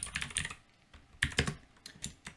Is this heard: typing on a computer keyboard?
yes